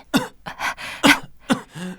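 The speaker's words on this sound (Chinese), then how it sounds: "怎么又咳嗽了？" A few short, throaty coughs in quick succession, close and fairly loud, with brief breaths between them.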